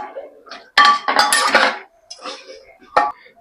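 A spoon clinks and scrapes against a pot as cornflour water is stirred into an oil-free chicken soup with tomato, in short bursts separated by near silence.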